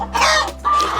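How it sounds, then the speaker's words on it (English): Layer hens cluck on a poultry farm that also keeps broilers and pigs, with two bursts of busy, close clucking and squawking over a steady low farm hum. "has also invested in poultry, broilers and layers to be precise"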